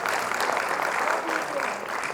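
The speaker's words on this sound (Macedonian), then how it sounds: "Уште еден аплауз, благодарам за" An audience applauds after a forum theatre performance about education, with continuous clapping from a sizeable crowd that swells and eases slightly while a voice talks over it.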